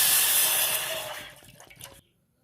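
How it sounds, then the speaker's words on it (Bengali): Water splashes into a heated bowl on the stove, a loud hissing rush that tapers off over about two seconds and then stops abruptly, with no talk. "এবার এর মধ্যে জলটা দিয়ে দেবো।"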